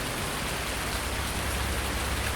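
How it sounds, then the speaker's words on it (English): Steady rain pours down in the Farming Simulator 19 video game, an even, continuous hiss of drops on surfaces that holds at a constant level throughout, with no voices. "As you can see, we hit the rain"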